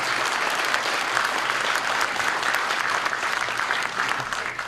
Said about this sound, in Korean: 뜨거운 박수로 응원해 주시고 격려해 주시기 바랍니다